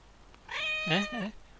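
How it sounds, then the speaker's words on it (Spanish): A cat meows once in Dragon Age: Origins – Awakening, a clear, close, drawn-out cry that rises and then bends down into a wavering tail, heard alone over a quiet background. "¿Y ese es el gato de DLC de Shale?"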